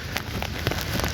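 Steady rain falls in an empty park in Delhi, a dense continuous hiss of drops on surfaces with faint scattered pattering, close and even throughout, no voices.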